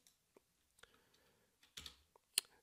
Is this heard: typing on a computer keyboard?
yes